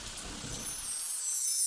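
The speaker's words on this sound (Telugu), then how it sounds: "ఓ, వర్షం పడుతోంది." Rain falls as a steady, bright hiss that swells and grows louder over a brief moment after a low rumble fades.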